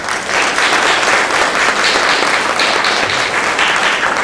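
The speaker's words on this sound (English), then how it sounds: "you guys deserve a big round of applause" Steady, loud audience applause fills a room at a city youth complex press conference in Perth Amboy, many hands clapping continuously for the full few seconds with no voices over it.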